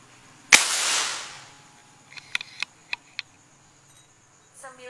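An LW Poligon air rifle fires a 13-grain XSLUG during a velocity test: one sharp, loud crack with a hissing tail, followed by several quieter ticks and clicks.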